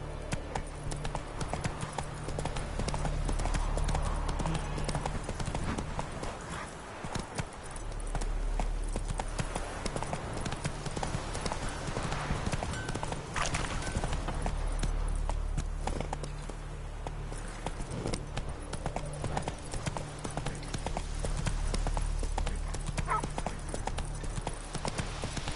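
A horse's hooves clip-clop at an even walking rhythm in the video game The Witcher 3. The steady footfalls carry through the whole stretch over a low ambient bed.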